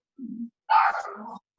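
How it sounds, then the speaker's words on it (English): A dog in a room gives two short vocal noises, a low brief grunt followed by a louder, longer whine-like yelp, close by with silence around them. "Sorry, that's my dog."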